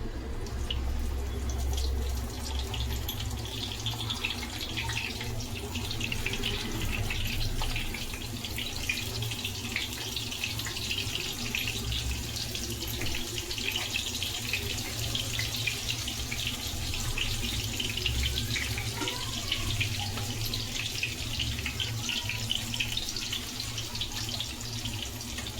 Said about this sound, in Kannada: ಸಣ್ಣ ಉರಿಲೇ ಫ್ರೈ ಆಗಲಿ.